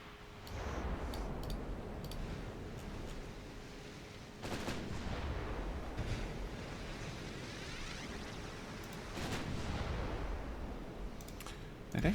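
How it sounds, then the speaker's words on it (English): Destroyers firing naval guns in a World War II naval video game, with two heavy boom volleys standing out over a constant rumbling battle din, plus scattered lighter shots. "All the destroyers fire."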